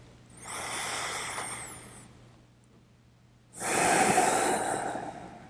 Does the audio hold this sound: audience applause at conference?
no